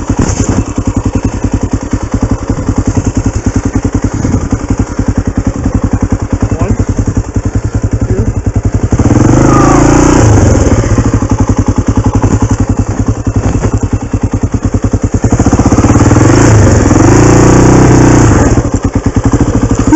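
A motorcycle revs while stuck in mud on an off-road trail at Hollister: a loud, continuous engine roar that surges to higher revs midway, with thuds and clatter mixed in.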